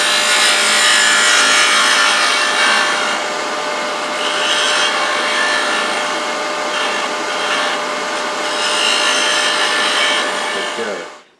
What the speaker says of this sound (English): a small bowl gouge does it faster